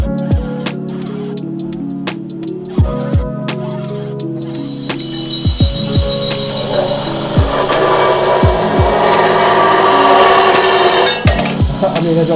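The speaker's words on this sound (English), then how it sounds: "He's in there grinding away on a bracket that we're trying to make for it right now." A metal bracket for a truck bed fishing rod rack is worked with a grinder, giving repeated rasping passes and a sustained high grind later, loud and close, with workshop clanks between strokes.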